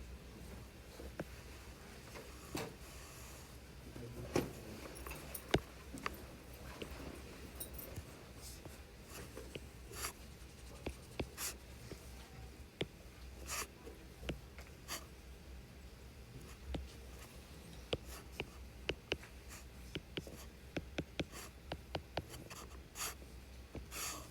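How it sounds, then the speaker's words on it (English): Pencil scratching steadily on paper as geometry figures are drawn by hand in a classroom, with faint taps and clinks scattered through a quiet room and no talking. "we're going to draw a couple pictures to wrap our heads around this idea"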